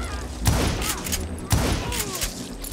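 Two heavy gunshot bursts from a shootout in the Western game Call of Juarez: Gunslinger, about a second apart, loud and close, with rumbling battle noise and a faint voice underneath.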